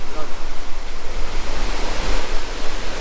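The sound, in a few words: Thooval waterfall in Idukki, water falling with force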